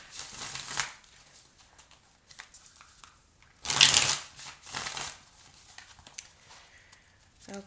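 Tarot cards from a second deck are shuffled in short riffling bursts, one louder and longer burst in the middle, with soft card handling between them, close up and without talk.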